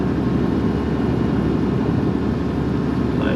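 HGV lorry carrying a hazardous load, engine brake on while descending a hill past parked cars and houses, giving a steady, loud, low rumbling drone throughout with no talk.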